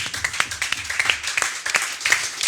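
A church congregation applauding and acclaiming during a worship service: dense, steady crowd clapping with bright, sharp hand claps over a murmur of cheering voices.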